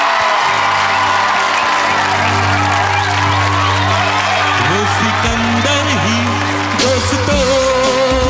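An audience claps and cheers to welcome a guest onto the stage at an antakshari singing event, a dense, loud, continuous wash of applause and whoops with a sustained musical drone underneath.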